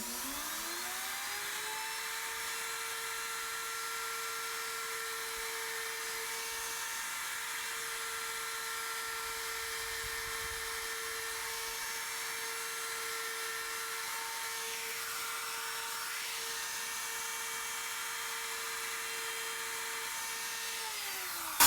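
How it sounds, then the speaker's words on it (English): A wood router freehand carving large inset letters gives a steady, unbroken high-pitched motor whine that holds at an even level throughout, close and alone. "when you're pulling that router to you, you could probably make a little straighter line"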